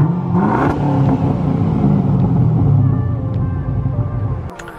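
A Pontiac G8 engine with a muffler delete and X-pipe revs hard with a loud, raspy exhaust roar that holds steady, then cuts off abruptly near the end.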